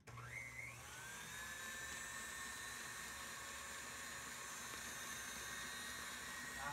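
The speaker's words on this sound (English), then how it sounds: "I'm gonna turn the mixer on and just let it be." A stand mixer runs at a steady whir while beating soft butter and shortening into Swiss meringue buttercream, faint and continuous after a brief rising tone at the start.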